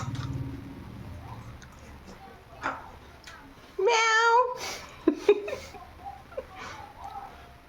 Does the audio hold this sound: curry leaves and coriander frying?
no